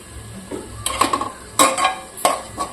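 Cauliflower fried rice being stir-fried in a pan, quiet sizzling broken by several sharp scrapes and clinks of a spatula against the metal pan.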